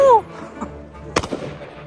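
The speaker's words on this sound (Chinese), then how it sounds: "当我用颤抖的手开了人生第一枪之后" A single sharp rifle shot is fired toward graves behind a walled house in Pakistan. It rings out alone after a short voiced sound, followed by a faint echoing tail.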